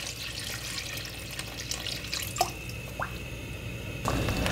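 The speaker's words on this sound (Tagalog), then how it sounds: "So ang gagawin ko dito, dadagdagan ko pa ng konting tubig." Water runs and drips into a cooking pot of beef rib sinigang soup, a steady trickle with a few distinct drips and splashes.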